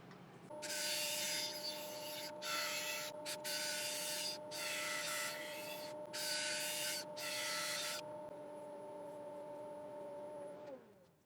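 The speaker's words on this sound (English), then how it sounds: "I sanded up to 400 grit." A turned yew wood piece is sanded up to 400 grit while spinning on a lathe. Five or six loud, rasping sanding passes each last about a second over the steady whine of the motor, which then winds down at the end.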